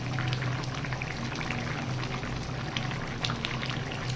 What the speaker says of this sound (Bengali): আমার মাছ রান্না লাউ দিয়ে দেখুন কত সুন্দর ফুটতে শুরু করেছে